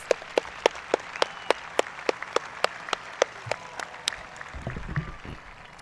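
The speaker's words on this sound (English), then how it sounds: "So give yourselves a round of applause." Graduates at a high school graduation ceremony clap steadily, sharp individual claps standing out at a regular rhythm, then the applause loosens and a low murmur rises near the end.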